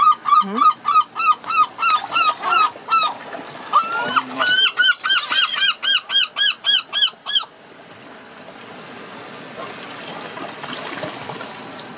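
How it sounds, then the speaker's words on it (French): Seagulls feeding on fish scraps call loudly in a rapid series of sharp, repeated cries, close by, then fade out, leaving flowing water and faint background noise. "Et les mouettes se régalent."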